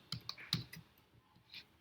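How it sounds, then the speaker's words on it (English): Typing on a computer keyboard: a few light, quiet key clicks in an irregular rhythm, close by and soft, with no talking over them. "now we are typing some the context here"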